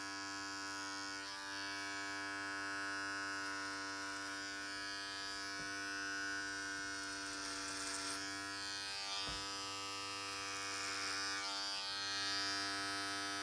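An electric hair clipper fitted with a number two guard trims a beard: a steady, close buzzing hum that shifts slightly in tone as it cuts, alone, with no voices.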